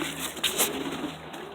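Pet pigeons in a loft coo softly nearby, with a brief flutter of movement and no voices over them.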